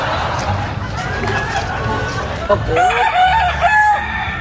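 A rooster crows loudly nearby at a cockfight, a long drawn-out cock-a-doodle-doo rising over the murmur of a crowd talking in the background.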